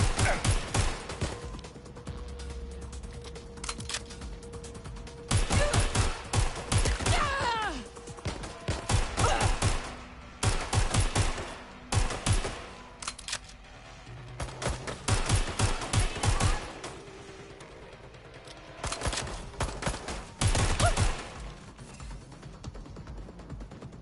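Gunfire in the video game Watch Dogs Legion comes in repeated loud bursts of rapid automatic shots, broken by mechanical clatter and quieter gaps.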